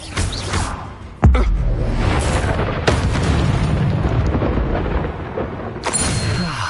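A Confringo blasting spell erupts in Hogwarts Legacy with a sudden heavy boom, followed by a long rumbling roar of destruction and a later sharp burst near the end.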